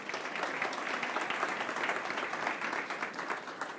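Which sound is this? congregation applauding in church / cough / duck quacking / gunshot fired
congregation applauding in church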